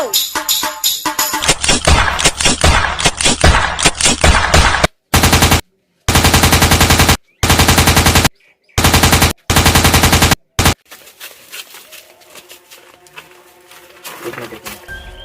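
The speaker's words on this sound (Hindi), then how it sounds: "गोली का आवाज चला थी।" Bursts of rapid automatic gunfire from a sound effect in a comedy skit about the game PUBG, loud and close, with noisy talk and commotion before and after.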